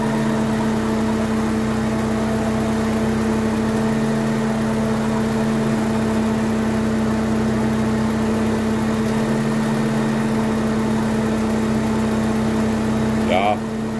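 A Volkswagen Polo 86C oldtimer's engine idles steadily at close range, a constant low hum with a droning tone and mild vibration running throughout, with a brief higher whine near the end.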